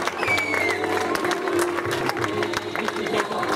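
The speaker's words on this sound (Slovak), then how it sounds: "A ešte raz im zatleskáme, zapískame, zaviskáme." An audience at a race awards ceremony for a mountain run claps and cheers in a dense, steady wash of applause with whistles, close and continuous, with a voice over a loudspeaker mixed in.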